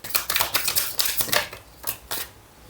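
Tarot cards shuffle and slap down on a table at close range, a quick series of crisp, papery taps and swishes with short pauses between them, and no talking.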